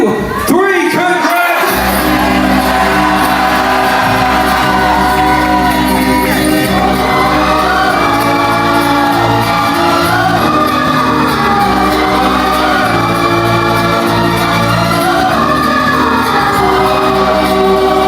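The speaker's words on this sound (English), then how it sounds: "I need each and every single one of you to scream congratulations as loud as you can" Wedding reception guests scream congratulations together, a loud sustained crowd roar of shouts and whoops that fills the room for the whole stretch with no gaps.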